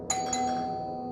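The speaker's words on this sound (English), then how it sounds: "someone rang her doorbell." A doorbell chimes in a house, two bright ding tones struck close together near the start, then a long sustained ring that slowly fades, alone with no talking.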